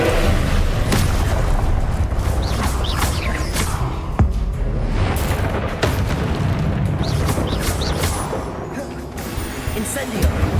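Repeated spell blasts and explosions from the Hogwarts Legacy video game, booming impacts and crashes over continuous loud game effects with brief bright bursts.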